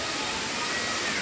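Water pouring down at Bamni Falls, a steady broad rushing roar heard from nearby, continuous and even.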